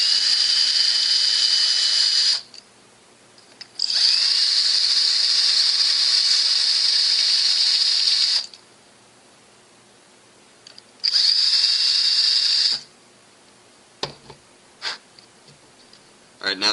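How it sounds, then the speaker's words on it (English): A power drill bores out the air restrictor of a gun, running in three sustained high-pitched whining bursts with short pauses between, followed by a few brief clicks and taps; no talking over it. "take my drill, and go in and drill out the air restrictor"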